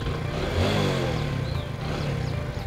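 A Honda CD 100cc motorcycle idles nearby with a steady low engine throb and a slight rise in revs, joined by faint high background chirps.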